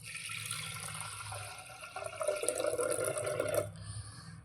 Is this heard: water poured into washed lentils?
yes